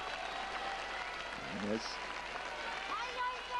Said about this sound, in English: the Kyushu crowd, cheering their man